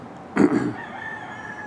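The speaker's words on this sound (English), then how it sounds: "you can hear those roosters crowing" A single rooster crow rings out briefly at a distance during Hurricane Milton, followed by quiet outdoor ambience.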